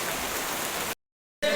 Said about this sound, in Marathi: खूप खूप जास्त पाऊस आहे, खूप.